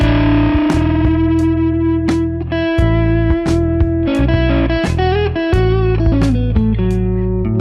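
Overdriven electric guitar through a Dumble-style amp simulator plugin, playing sustained chords and bending notes, thick and warm with a bit of effect sheen, no voices.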